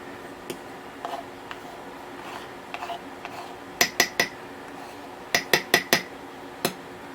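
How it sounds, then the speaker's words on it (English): A spoon scrapes and taps against a glass jar of sourdough starter, giving sharp, bright clinks in small clusters over a quiet background, close and fairly loud. "And I'm going to go ahead and scrape this off."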